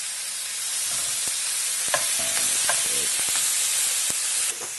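Beef sears in a hot pan for lomo saltado, a bright steady hiss of sizzling oil with scattered clicks and taps of stirring, close and without talk.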